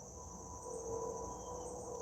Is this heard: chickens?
no